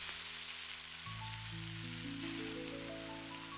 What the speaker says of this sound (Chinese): 下入西红柿丁，快速翻炒均匀。